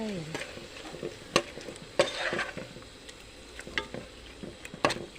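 Pork belly cooking in a pan for a Thai khi-lek (cassia leaf) curry, with a close, steady sizzle broken by repeated scraping and stirring clatters and a few louder utensil knocks.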